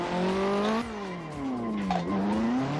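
A Nissan S13 drifting on a circuit, with a loud sustained engine whose pitch rises and falls through the slide, mixed with tire squeal.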